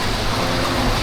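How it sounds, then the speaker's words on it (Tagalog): Steady rain falls outdoors in a stormy downpour, a dense continuous hiss with low rumble and no clear individual drops, loud and unbroken throughout. "Mga ulan, silong muna tayo konti."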